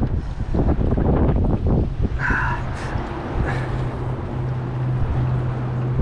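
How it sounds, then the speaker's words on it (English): Strong wind buffets the microphone in a steady low roar beside a creek, with brief faint knocks and a low hum underneath. "it is very windy"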